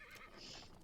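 A horse in a video game gives a short, fairly faint whinny, under a second long, with no talk over it.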